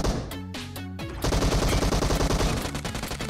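Automatic gunfire in the video game PUBG Mobile: a short burst of rapid shots, a brief pause, then a sustained, loud stream of fast, evenly spaced shots close by.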